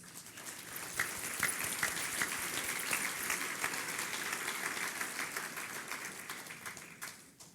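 Sustained applause from the crowd at a mayor's business luncheon, dense steady clapping filling the room for several seconds before tapering off near the end.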